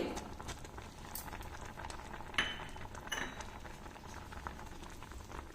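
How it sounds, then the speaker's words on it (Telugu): Sweet potato and jaggery payasam bubbles gently in a pot, a soft steady simmer with scattered light clinks of a spoon against the vessel, fairly quiet and close. "ఇంకొక నిమిషం అట్లా కొంచెం బాయిల్ అవనిద్దాం"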